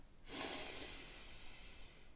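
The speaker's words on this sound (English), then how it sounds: "also these are good breathing techniques" A single long, forceful breath pushed out through the nose or mouth as part of a voice and breathing exercise, a close, airy rush that swells and then slowly fades.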